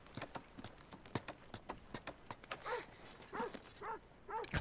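Dog in the ancient Greek action game Assassin's Creed Odyssey gives a steady run of short, sharp barks, then a few higher yelping cries toward the end, all fairly close and moderately loud.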